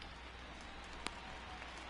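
Steady rain falls across a baseball stadium in MLB The Show 20, a constant faint hiss of drops with one brief sharp tick partway through.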